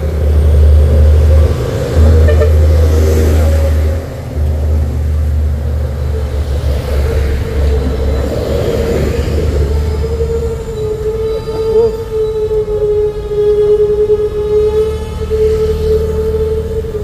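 An ambulance siren wails steadily over loud, rumbling traffic noise on a road near Bukit Kodok, Indonesia, the tone holding and rising as the vehicle passes nearby.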